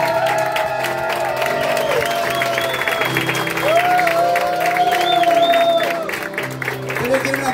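A live audience at an improvisers' competition final claps in a dense, sustained wash of applause, mixed with music and voices.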